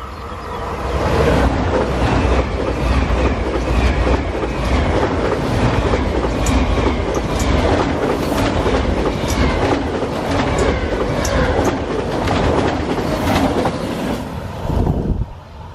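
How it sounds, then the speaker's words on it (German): An ICE 4 high-speed train roars past at close range, preceded by singing rails, with loud sustained rushing noise and rapid wheel clatter throughout before easing off at the end. "Die Gleise singen und da kommt ein ICE 4."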